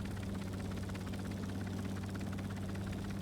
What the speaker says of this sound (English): What size engine? It's a medium diesel